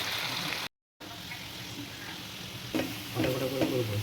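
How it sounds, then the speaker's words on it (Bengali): Potatoes fry in a pan with a steady crackling sizzle, briefly cut off, then joined by clinks and stirring sounds near the end. "তারপর একটু আলু ভাজা করছি"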